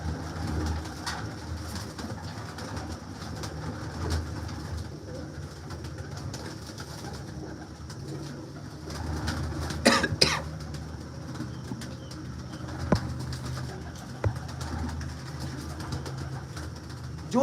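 A loft of roughly 250 to 400 pigeons kept for sale, with steady cooing from many birds and a few bursts of wing flapping and sharp knocks, continuous and moderately near.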